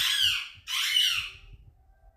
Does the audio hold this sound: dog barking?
no